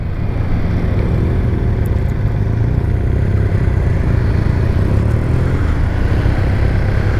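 Kawasaki W800 motorcycle riding out in a group, a steady loud engine drone with broadband wind rumble throughout, no gaps or talk.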